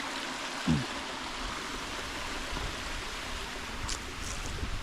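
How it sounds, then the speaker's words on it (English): A creek above a waterfall on the Rim Trail at Mount Nebo State Park flows with a constant, broad rushing hiss, close and steady throughout, with a small splash near the start. "If this creek is running, the waterfall will be flowing"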